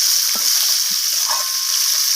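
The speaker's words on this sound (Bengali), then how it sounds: "তো মাছগুলোকে আমি একটু উল্টে পাল্টে খুন্তি দিয়ে ভেজে নিচ্ছি।" Fish pieces frying in hot oil hiss with a loud, even sizzle, broken by a couple of soft knocks as a spatula turns them.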